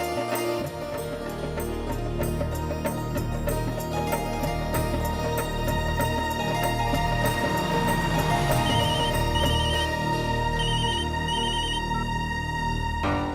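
A telephone rings in a home setting in a Hindi family drama, a repeated electronic ringtone pattern sounding steadily over a bed of background music, with no voices.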